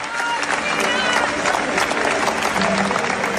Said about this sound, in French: De longues minutes d'applaudissements.